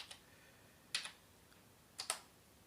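Quiet keystrokes on a computer keyboard: a single tap, then two short bursts of quick double clicks about a second apart, close-up and isolated against a near-silent background.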